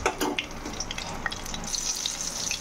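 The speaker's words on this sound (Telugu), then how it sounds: "ఆయిల్ వేసి 2 ఎండుమిరపకాయలు వేసాను అన్నమాట. కొద్దిగా పోపు దినుసులు వేస్తున్నాను. ఇవి కొంచెం ఫ్రై అవ్వాలి." Two dried red chillies and tempering spices fry in hot oil in a pan, a close, steady sizzle with crackling pops and a few stirring scrapes.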